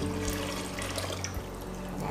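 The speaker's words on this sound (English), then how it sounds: "then we will add water, 1 liter only" Water pours steadily into an empty cooking pan on a stovetop, measured out to about a liter for mushroom soup, a continuous splashing stream heard close and alone.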